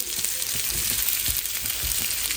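Stuffed bitter gourd, pre-boiled and filled with masala, fries in a pan and is pressed down, giving a steady close hiss of sizzling oil with soft low thumps and no talking.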